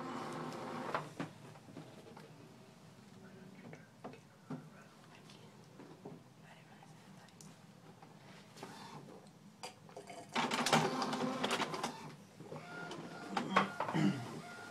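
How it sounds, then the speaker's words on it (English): A home printer runs through a full-page photo print with a faint, steady mechanical whir and ticking, swelling into louder feed and rolling bursts near the end while a person talks over it. "Okay, so now it's gonna print."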